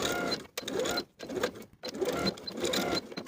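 A sewing machine stitches a cuff seam on a plaid wool jacket in steady, close runs broken by a few short pauses, with no talking.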